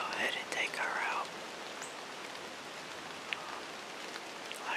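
Steady rain falls outdoors during an opening-weekend bow hunt, a constant soft hiss close around the recorder, with a hushed whispering voice at the start and an occasional louder drop tapping nearby.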